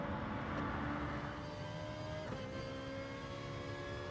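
On-board engine note of a Ferrari race car lapping Lago Maggiore in Gran Turismo Sport, a steady high droning whine with a brief shift dip midway, loud and continuous.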